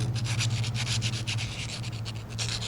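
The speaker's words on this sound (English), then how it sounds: "You just file the inside of this." A metal file worked against the inside of the steel ring on a Japanese chisel, giving steady, close rasping strokes in a continuous rhythm under a low background hum.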